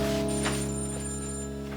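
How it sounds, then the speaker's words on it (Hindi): A telephone rings with a steady electronic tone, a short continuous ring heard close and clear with no talking. "अरे अब किसका फोन आ गया?"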